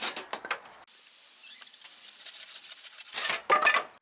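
Pieces of wood are cut to length for the legs of a wooden log Christmas reindeer. Scratchy, rasping sawing strokes come in short bursts, with a quieter stretch in the middle, close and moderately loud.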